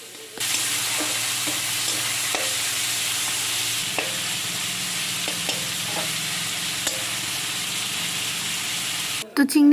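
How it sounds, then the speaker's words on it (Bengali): Prawns fry in mustard oil in a wok with a steady, close sizzle, broken by occasional scrapes and stirring clicks; the hiss cuts off near the end. "তারপর এখন চিংড়ি মাছগুলো ভেজে নিচ্ছি"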